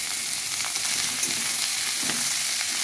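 Bottle gourd and green chili fry in a pan with salt and turmeric, giving a steady, close hiss and sizzle with occasional soft stirring.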